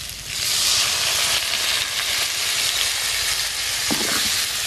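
A little water hits hot spices and cumin paste in a pan for a cauliflower and hilsa dish, bursting into a loud, steady hissing sizzle that holds close and even throughout.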